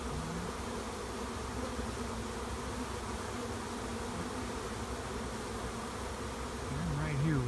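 A swarm of honeybees buzzes steadily and densely up close while the colony moves its queen, with a faint voice briefly underneath.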